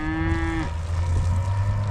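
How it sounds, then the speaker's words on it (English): Cows and calves on a farm moo at the feed bunks during an evening check on a hot day. A single loud, drawn-out moo rises and then settles into a long, low call. "this is the evening check of the cows and calves. We call them up to the feed bunks"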